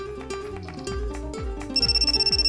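A phone rings in a visual novel game, a loud, steady electronic ring pulsing rapidly near the end of the clip over gentle melodic background music.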